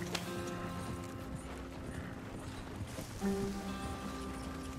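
Horse hooves clip-clop in a steady walking rhythm in the Red Dead Redemption 2 video game, faint and continuous beneath a layer of ambient in-game tones and background sound.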